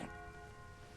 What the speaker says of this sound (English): that our bells? Can we hear them all the way from here?